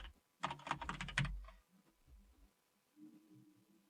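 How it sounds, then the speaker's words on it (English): Quick burst of clattering keystrokes on a computer keyboard, close and crisp, then a few isolated faint taps and low hum. "I'm typing."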